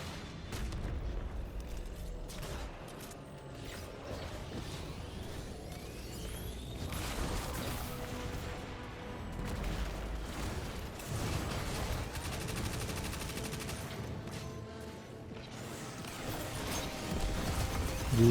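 Weapon fire and impacts against a tank enemy in Destiny 2, a dense, continuous barrage of blasts and mechanical clatter that stays loud throughout with no pause.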